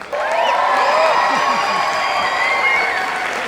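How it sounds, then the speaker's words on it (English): Loud audience applause with some cheering at a school Founders Day celebration, close and steady from start to finish, with a few voices calling out over the clapping. "Come on, let's all cheer."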